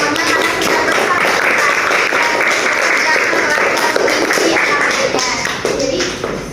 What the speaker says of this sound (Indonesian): kita tepuk tangan untuk semuanya karena sudah bersatu